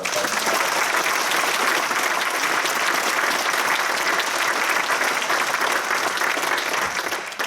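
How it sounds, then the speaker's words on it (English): Sustained audience applause at a marching flute band's 50th anniversary concert, a dense, loud wash of many hands clapping steadily for the whole stretch before tapering slightly at the end. "could you just put your hands together and give a big round of applause to Norman and Ronnie"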